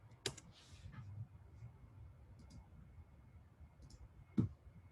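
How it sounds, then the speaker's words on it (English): Keys click on a computer keyboard, a few quiet scattered taps and one sharper near click in a hushed room, sparse and irregular rather than a fast typing run. "I'm going to type in point"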